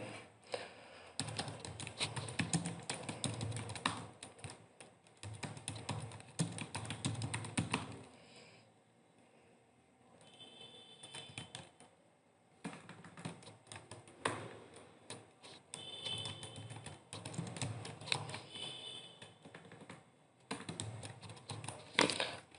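Fingers type names on a computer keyboard in long, steady runs of soft clicks, broken by a short pause midway and a few brief gaps, quiet and close with no speech.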